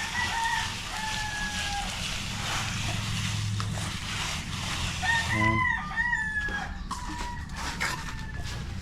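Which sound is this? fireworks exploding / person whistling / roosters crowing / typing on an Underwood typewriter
roosters crowing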